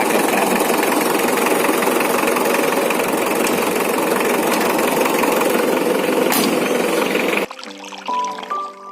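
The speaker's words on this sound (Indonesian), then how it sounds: "Sembari memanaskan mesin, kita bisa mengecek roda ya." A car engine idles steadily while warming up, a loud continuous rumble that runs unbroken for most of the stretch before cutting off abruptly near the end, where faint tonal sounds follow.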